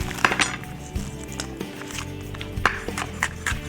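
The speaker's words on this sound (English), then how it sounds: "I got some onion. Okay. We're just going to cut it up nicely so it cooks really quick with me mushrooms." A very sharp knife chops onion on a board in a home kitchen: irregular crisp taps and light clinks, some louder strikes clustered at the start and near the end, close and without talk.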